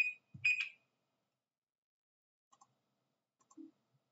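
A short buff timer alarm from the strategy game Evony rings as two bright electronic beeps, followed by faint scattered clicks and blips in near silence.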